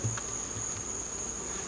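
Honey bees hum around an open hive during late-summer mite treatment, a steady faint buzz with a thin high whine throughout and a few soft low thumps early on.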